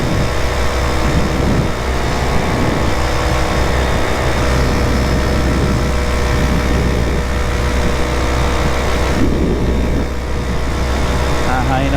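An Atom 80 paramotor engine roaring steadily at full throttle in flight, a loud, close, continuous buzzing drone with wind rush, holding constant throughout.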